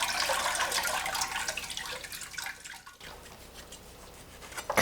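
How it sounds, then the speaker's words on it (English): Cold tap water runs steadily over cooked noodles in a kitchen sink, a bright continuous splashing that softens partway through and continues more quietly. "Then rinse under cold water and put the noodles aside."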